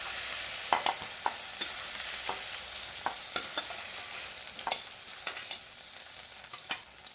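Prawns fry in oil in a pan, giving a steady bright hiss scattered with sharp little pops and clicks of stirring throughout, with no talking.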